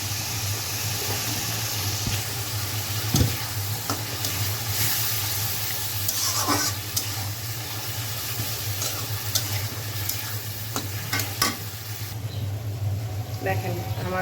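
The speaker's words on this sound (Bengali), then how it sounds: "এখন এই মশলাটার মধ্যে চিংড়িগুলো দিয়ে দিব।" Shrimp frying in a spice paste with fried tomato, giving a steady, moderately loud sizzle with scattered stirring clicks over a low constant hum, with faint voices in the background.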